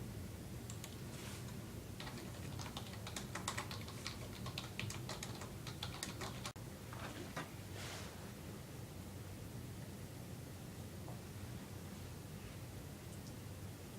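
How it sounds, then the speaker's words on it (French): Typing on a computer keyboard while writing a message, a steady run of light clicking keystrokes with brief pauses, close and moderately quiet over a constant background hiss, no voices. "Alors, je vais écrire un message."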